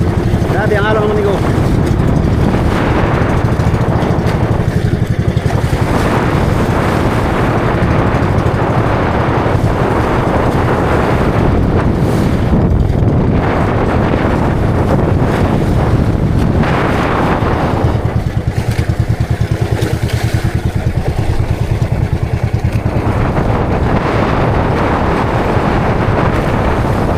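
A boat off Surigao pushes through big waves in strong wind, its engine droning under constant wind roar and crashing water, loud and unbroken throughout, with voices occasionally audible beneath the noise.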